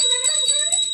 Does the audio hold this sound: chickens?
no